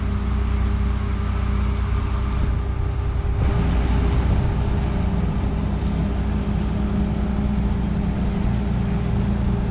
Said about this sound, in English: he's the one driving the